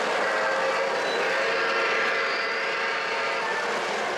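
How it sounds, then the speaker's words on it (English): A red Pacemaker Mohawk model steam train runs steadily, giving a continuous close whirring, rolling hiss at an even level without pauses. "The red Pacemaker Mohawk. You want to talk about a cool steam engine."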